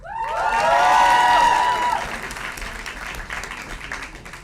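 Applause from a crowd at a Columbia University Journalism School graduation, swelling quickly and then fading to a scattered patter, with a few cheers and whistles mixed in.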